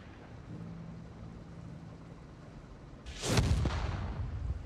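Field gun firing in the World War II strategy game Company of Heroes 3, heard as a single sudden loud boom with a rumbling tail that cuts through a low background hum.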